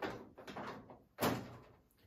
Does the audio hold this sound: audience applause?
no